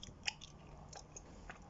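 Someone chews bubble gum close to the mic, giving faint, soft, irregular wet clicks and smacks over a quiet background, with no talking.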